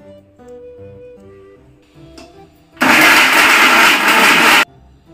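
An orange smoothie whirring in an electric blender, a loud steady roar about two seconds long that starts and stops abruptly, preceded by quiet kitchen clatter and background music.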